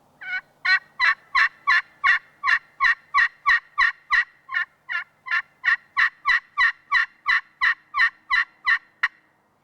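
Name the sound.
friction turkey call imitating a hen's plain yelp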